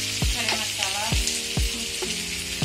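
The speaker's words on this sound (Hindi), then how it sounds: "यहाँ अभी प्याज फ्राई हो रहा है" Onions sizzling in a pan with whole spices, a continuous bright hiss broken by repeated stirring scrapes every half second or so, close up and with no talking.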